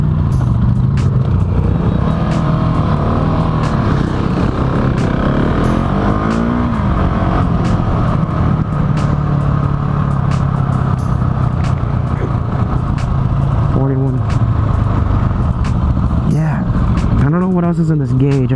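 A 2018 Husqvarna 701 Supermoto single-cylinder engine idles steadily in neutral, a constant low rumble throughout with someone talking over it and a brief blip near the end.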